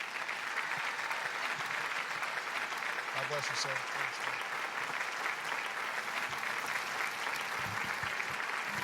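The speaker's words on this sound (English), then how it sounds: "A big round of applause for our friend" Sustained crowd applause at a speaker event, a loud, even wash of clapping from a large audience, with a voice briefly speaking over it.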